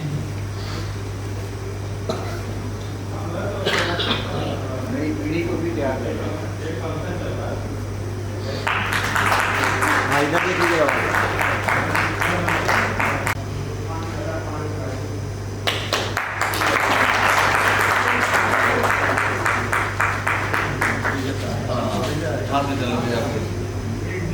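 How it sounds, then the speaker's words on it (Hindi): Audience applause at a literary ceremony honouring a sub-divisional magistrate, two loud bursts of clapping over a steady hum, separated and preceded by stretches of speech from the stage. "सभी से आग्रह की सभी करतल ध्वनियों से शामिल हो"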